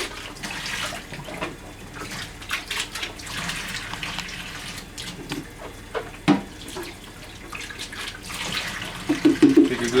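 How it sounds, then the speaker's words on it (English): Tap water running steadily into a sink while the parts of a juicer are rinsed, a continuous close splashing rush with a few clatters and louder gurgles near the end. "Just rinse this out. Rinse the outside real good."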